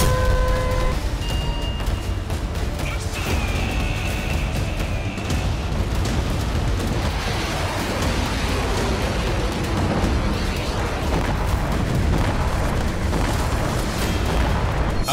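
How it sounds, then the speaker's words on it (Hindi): North Korean artillery test fire: a continuous heavy rumble of booms and blasts, loud and sustained throughout with no talk. "इस बार किम ने अपनी आर्टिलरी की ताकत को परखा है।"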